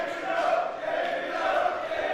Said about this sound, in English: This crowd are extremely vocal, both in support and opposition to Marty Scurll